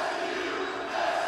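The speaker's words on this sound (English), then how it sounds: "Crowd's great there." A wrestling arena crowd roars and cheers in a steady, dense wash of voices, moderately loud and sustained without a break.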